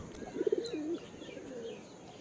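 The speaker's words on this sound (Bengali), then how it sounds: "সব পায়রাগুলো একসঙ্গেই খাওয়া দাওয়া করছে।" Domestic pigeons coo softly while feeding together in a loft, a short rolling coo followed by a fainter second call, fairly quiet with no talking.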